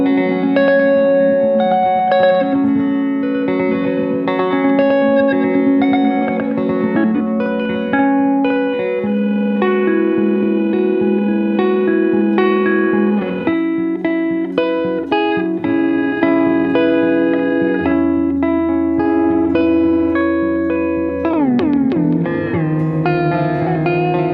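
A guitar runs through an effects pedal in envelope mode, its playing turned into resonant, metallic, ringing tones with echo and distortion, a loud and continuous stream of shifting pitched notes with no talk.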